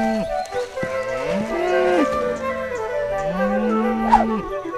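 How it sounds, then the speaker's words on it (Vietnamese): A cartoon donkey brays in long, drawn-out, rising and falling tonal calls that repeat several times, loud and close, with no voices over them. "là tiếng lừa kêu"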